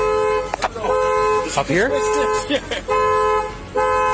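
A school bus alarm sounds in loud repeated toots, steady tonal blasts broken by short gaps, with people talking urgently over and between them close by.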